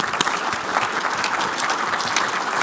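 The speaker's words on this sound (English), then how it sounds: "let's have a big applause for the panelists" Audience applauding panelists at a Kubernetes telecom networking conference panel, a steady, dense wash of many hands clapping that fills the room evenly throughout, with no talking over it.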